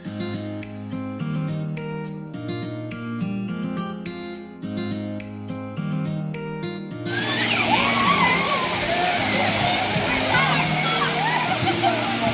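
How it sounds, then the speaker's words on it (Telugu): At a large amusement water park, a kids' water game tub fills and tips its water over people. Rhythmic music plays first, then loud rushing, splashing water takes over for the rest. "టబ్బు నిండా వాటర్ పట్టుకుంటుంది, తర్వాత మన నెత్తిని పోసిద్ది"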